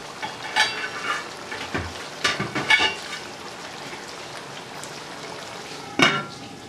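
Potato and egg cook together in a pan for a fry, with a low background sizzle and a handful of sharp spatula clinks and scrapes against the metal, near and sparse.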